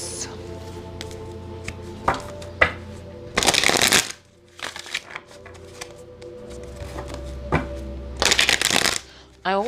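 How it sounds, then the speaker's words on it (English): Two bursts of cards being riffle-shuffled, close and crisp, separated by soft taps and handling noises, with a low hum beneath. "I like to shuffle on camera"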